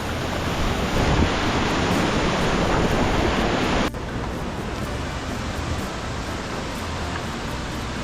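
Springer Creek Falls pours as a steady, loud roar of rushing water close by, a dense broadband wash that drops to a slightly softer but continuous rush partway through, with no voices.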